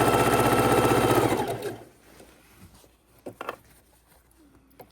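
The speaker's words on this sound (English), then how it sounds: "we're going to sew them one after another." A sewing machine stitches half-square triangle quilt squares made from 5-inch fabric squares, running loud and steady for about a second and a half before stopping, leaving faint handling noises.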